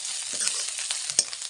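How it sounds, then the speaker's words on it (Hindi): Whole spices stirred and fried in a pan, a short bright sizzle broken by a couple of spoon scrapes against the metal, close by and without speech. "थोड़ा सा मसाले को और चला देते हैं जब तक कि ये मसाला भुन जाए।"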